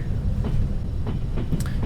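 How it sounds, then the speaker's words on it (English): Train running in Trans-Siberian Railway Simulator, a steady rumbling rolling drone with faint periodic clacks, continuous and fairly close, with no talk. "At least we've got some power still on the train."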